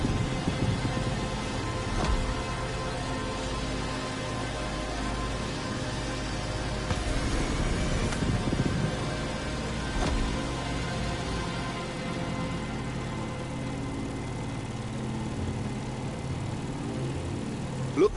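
A propeller airplane climbs over the Hawaiian island setting of The Crew Motorfest, with a steady engine drone and whooshing wind that hold at a constant level for the whole stretch, without speech.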